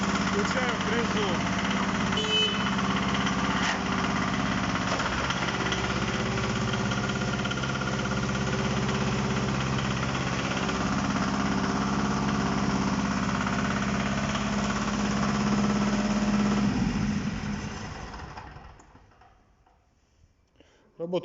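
A two-cylinder mini tractor runs loudly and steadily with its rotary tiller engaged, a constant close clattering drone that winds down and fades out near the end.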